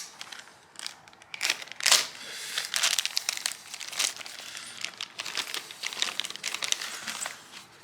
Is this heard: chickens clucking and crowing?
no